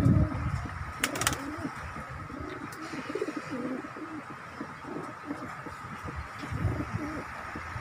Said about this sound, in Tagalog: ang ating mga ibon